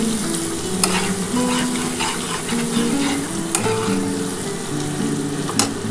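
Masala for a restaurant-style pomfret curry sizzles loudly in oil as it is stirred and fried, with a dense continuous crackle, a few sharp scrape clicks of the spoon and no voices, heard up close.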